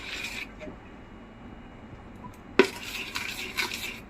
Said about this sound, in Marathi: आता आपण डाळ आणि तांदळाचं मिश्रण मिक्स करून घेऊया